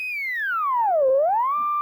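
Single sustained synth tone from the Castle basic synthesis engine with bright harmonics, gliding smoothly down in pitch then back up, steady and clean with no effects, heard alone.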